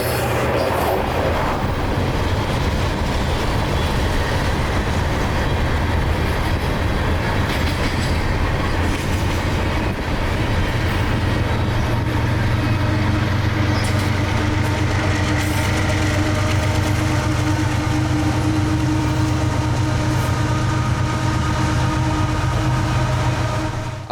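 A southbound coal train led by locomotive 902 rumbles steadily and loudly nearby on approach to Richland, with continuous wheel clatter, a low engine drone and faint squealing throughout.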